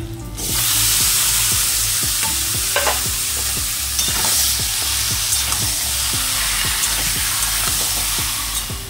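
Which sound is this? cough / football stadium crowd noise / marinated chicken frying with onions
marinated chicken frying with onions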